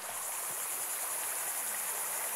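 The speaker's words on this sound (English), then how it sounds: "At the end of their trek, the pristine Bladen River comes into view." The Bladen River flows in a rainforest setting, a steady broad rushing of water filling the whole stretch evenly, with no voices and no breaks.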